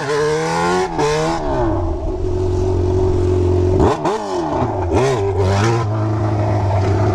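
A Yamaha XJ6 motorcycle engine revs hard several times, its pitch surging and dropping between throttle blips, loud and close with a mechanical clatter underneath.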